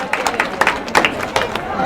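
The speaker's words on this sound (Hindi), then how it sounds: "एक बार जोरदार तालियों से स्वागत कीजिए" An audience claps to welcome a guest at a gathering, with scattered, uneven hand claps popping over a murmuring crowd and voices nearby.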